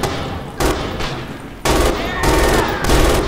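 MG 42 machine gun fired in the Red Orchestra 2 video game, several loud rapid bursts in quick succession with a short pause between them, close and dominant.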